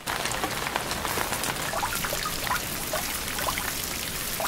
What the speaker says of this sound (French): mais maintenant il pleut.